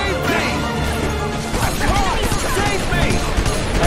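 Bursts of gunfire in Earth Defense Force 4.1, shooting at giant spider webs that trap wing divers, crackle continuously under loud game audio for the full stretch, with an overlapping voice talking.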